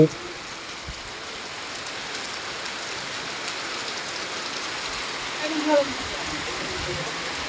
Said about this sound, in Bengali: এই যে দেখুন প্রচুর পরিমাণে বৃষ্টি